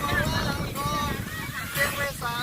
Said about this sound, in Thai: ลมแรง